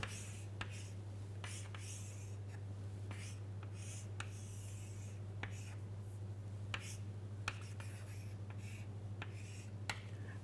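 Chalk or marker scratching and tapping on a board as a rectangular rod cross-section is sketched, faint scattered strokes over a steady low hum in a lecture room.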